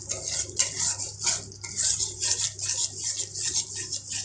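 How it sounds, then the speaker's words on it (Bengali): Spice paste with Kashmiri chilli powder being stirred in a pan for a vegetarian potato and pointed gourd curry, with steady scraping and clinking of a spoon against metal under a soft sizzle, close and continuous. "মশলাটা আমি 5 মিনিট কষিয়ে নেব।"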